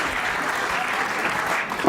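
An audience claps at a Hindi poetry recital, a dense, steady burst of applause from a large crowd, loud and sustained for a couple of seconds.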